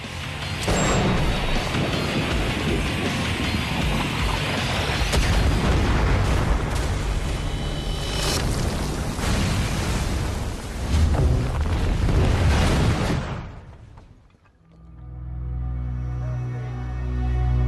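A long, roaring film-set explosion with rumbling blasts and crackling debris that fades after about fourteen seconds into a low, droning tone.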